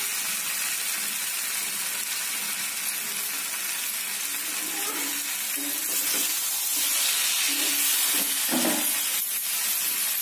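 Raw banana slices fry in hot oil in a pan, a constant close-up sizzle and hiss with occasional soft stirring scrapes and bubbling pops in the second half.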